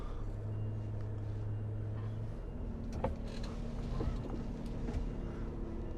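A truck manoeuvres on a narrow forest road to pull over, its engine idling low and steady with reversing beeps, mechanical clunks and brief whirring bursts around the middle.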